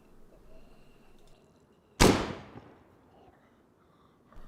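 A single sharp, close gunshot inside a hut in DayZ cracks out of a quiet background and then fades in a short echoing tail.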